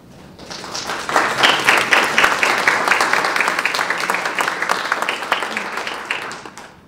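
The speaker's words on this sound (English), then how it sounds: "Clapping for me or are you clapping for her?" An audience at a regional poetry recitation final claps together, a dense rattle of many hands swelling quickly and holding steady before tapering off, with no voices over it.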